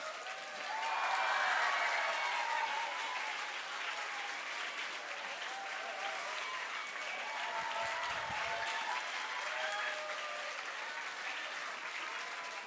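A church congregation applauds during a Sunday service at Eungwang Church, steady dense clapping that swells early and holds for the whole stretch with a faint murmur of voices underneath.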